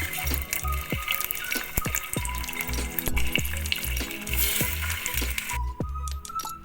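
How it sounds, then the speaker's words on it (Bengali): Fish heads, rubbed with lemon juice, turmeric and salt, fry in hot oil in a wok with a continuous spattering sizzle, close and fairly loud, with scattered sharp pops before it thins out near the end. "এবারে আমি মাছের মাথাগুলো ভেজে নেব।"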